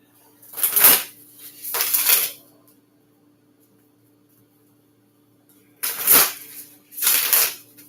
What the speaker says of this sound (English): we'll get some good shuffles here